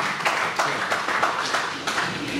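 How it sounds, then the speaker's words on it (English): An audience applauds at a business master class, a moderately faint patch of scattered, irregular hand claps that continues steadily without voices on top. "An applause for that honest"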